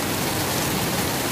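Torrential rain floods a street, giving an unbroken loud roar of water pounding on surfaces, thick and continuous throughout.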